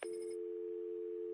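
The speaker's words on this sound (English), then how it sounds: "Answer my phone and answer it quick, Batman." A telephone rings in the video game Batman: Arkham City, a single steady electronic bell tone held loud and close throughout with no talking over it.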